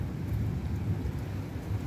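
Rain falls steadily in the UAE with a dense, low rumbling wash of noise, close and continuous throughout.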